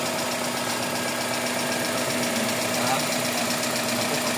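A Toyota 4AFE engine idles with subgear noise, giving a steady mechanical hum laced with a faint rhythmic ticking clatter, close up and continuous without pauses.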